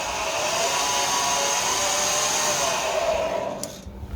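A homemade garlic clove separating machine with rollers runs at moderate speed, a steady loud whirring drone that holds constant for several seconds before winding down near the end, with no talking.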